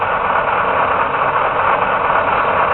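A detailed model locomotive's sound system plays a steady, loud engine idle, an even droning hum that holds unchanged for a few seconds with no voices.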